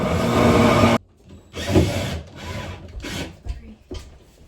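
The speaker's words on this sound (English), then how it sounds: "If you guys wanted a power tool" Loud harsh grinding and rasping of a power tool working on wood, running in bursts with short pauses between passes.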